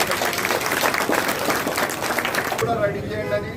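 A crowd of advocates at a court complex protest claps steadily in a dense burst of applause that softens slightly toward the end.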